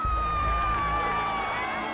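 A large crowd of jubilant protesters roars and cheers steadily in the distance during the 1989 fall of Ceausescu, a dense, sustained wash of voices with a faint whistle-like tone riding over it.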